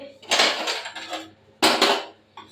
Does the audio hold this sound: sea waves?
no